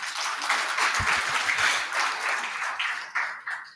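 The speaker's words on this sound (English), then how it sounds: "Give yourselves a round of applause" An audience at a launch event for a national code of practice for lifting machine training providers bursts into lively clapping, a dense, close patter that stays strong for a few seconds before tapering off.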